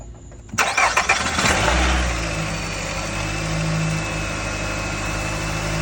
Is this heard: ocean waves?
no